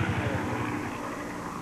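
A medevac Huey-style slick helicopter comes in at a Marine Corps squad competition, its steady, loud rotor throb and engine roar filling the air without pause.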